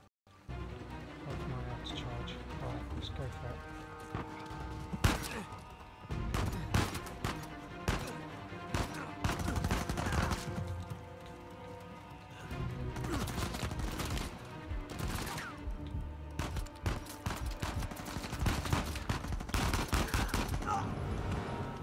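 Sustained machine gun fire in Uncharted 4, dense bursts of rapid shots with loud crackling peaks and only brief lulls, layered over a game soundtrack and combat effects.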